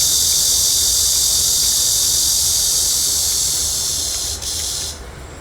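A dense, loud cicada drone fills the air, then falters and drops away near the end.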